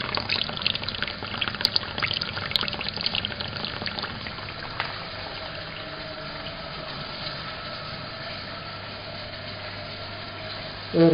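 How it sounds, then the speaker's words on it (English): A thin cooling-water stream trickles slowly from the reflux condenser of a running still, a steady, soft liquid flow with no talk over it. "The water that's coming out of it is just a little stream"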